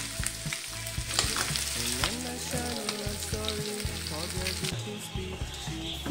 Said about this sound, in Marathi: तर आता मी फिश फ्राय करते